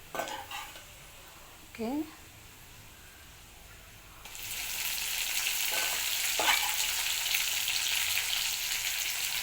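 Drumstick leaves go into a hot pan, and a loud sizzling frying rush begins halfway through after a few soft utensil scrapes, with stirring clatter over it and a brief word from a voice at the start.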